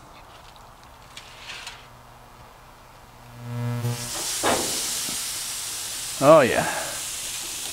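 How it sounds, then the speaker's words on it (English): Pork spare ribs hit a gas grill at about 500 degrees, a loud hiss of searing rising midway and holding, with a sharp burst of sizzle near the end and a brief spoken remark over it. "I'm gonna sear these on both sides."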